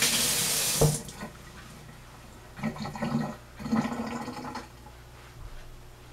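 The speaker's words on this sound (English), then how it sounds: "Gonna rinse the hands off because they are getting a bit messy." Water runs from a kitchen tap as hands are rinsed during home cooking of pork sliders, with several splashing surges of flow that rise and fall, fairly close and with no talking.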